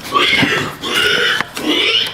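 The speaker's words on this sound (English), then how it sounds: "It sounds like a mix between a squealing pig and some sort of enraged dinosaur." Disturbing warning cries of an unseen creature in a paranormal encounter, a squealing pig-like shriek mixed with a harsh roar, three loud raspy bursts in quick succession.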